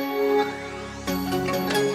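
A jingle, a sustained electronic chime tone that blooms into a brighter, fuller struck chord partway through, ringing on clearly to the end with no speech.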